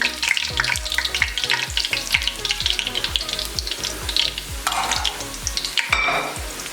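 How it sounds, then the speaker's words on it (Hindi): Onions frying in hot oil for chicken korma, a loud close sizzle with rhythmic stirring scrapes against the pan, steady throughout with no talking. "प्याज को हमने अच्छे से गोल्डन होने तक फ्राई कर लिया"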